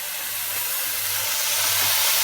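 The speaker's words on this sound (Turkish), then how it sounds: "Düdüklü tencerede önce eti Güzelce mühürleyeceğim." Loud, steady sizzling and hissing of lamb searing over high heat in a pressure cooker, a continuous spattering noise up close.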